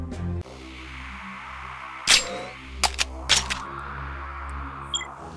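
Gunfire in the Doom video game: a few sharp, isolated shots crack out against a low, droning game soundscape, spaced irregularly with one louder blast followed by smaller pops.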